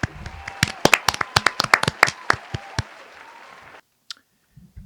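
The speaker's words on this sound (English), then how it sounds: "So let me give them a round of applause." Audience claps through an outburst of applause from a live show crowd, sharp overlapping claps building and thinning for about four seconds before stopping abruptly, with a faint murmur afterward.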